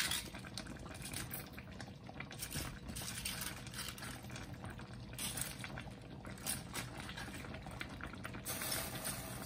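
Cabbage going into a pot of boiling water for pork ribs and dumplings, a steady bubbling roar with splashing and rattling that runs throughout at moderate loudness, with no talk.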